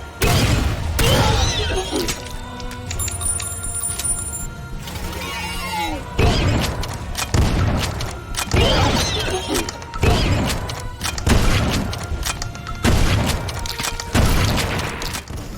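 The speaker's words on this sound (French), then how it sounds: "Les détonations des armes sont lourdes et puissantes, les bruits d'impact et de chair sont bien viscéraux" Heavy weapons boom and crash in the shooter Dread Templar, loud repeated blasts and crunching impacts arriving in bursts every second or so, with shattering debris between them.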